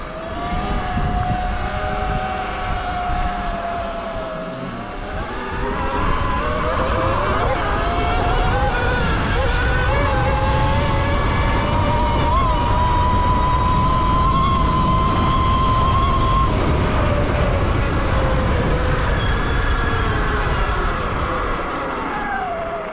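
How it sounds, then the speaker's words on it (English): An ERide Pro SS electric dirt bike is ridden hard, its motor giving off a loud, continuous whining tone that climbs and shifts in pitch over a steady rushing roar of wind and tyre noise. "Bike is loud though, especially coming from like the Talaria."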